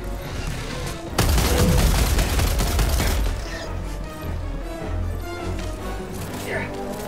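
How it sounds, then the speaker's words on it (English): Loud sustained gunfire and booming blasts fill Helldivers 2 gameplay, peaking in a dense volley early on and then rolling on under players talking. "Tonic, I've given you a chance to shoot this guy"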